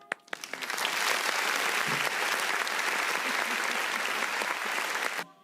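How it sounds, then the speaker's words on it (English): A live talk-show audience breaks into applause for a guest: a few scattered claps swell quickly into loud, sustained clapping that holds steady for several seconds and then stops sharply. "We'll give him a round of applause for a start."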